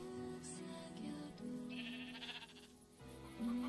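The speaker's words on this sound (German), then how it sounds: "Alter, wie viele Schafe sind denn hier?" Several sheep in the game Minecraft bleat one after another, wavering calls overlapping against quiet game ambience, fairly faint overall.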